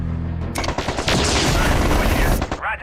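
LRM missile launchers firing in MechCommander 2, a loud, dense volley of rapid blasts and rumbling booms that runs for about two seconds, with a voice briefly heard in the mix.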